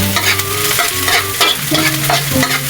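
Onion sautéing in a hot pan for beef skin and tendon kilawin, with a loud, close sizzle and busy scraping stirs of a utensil throughout, no talking.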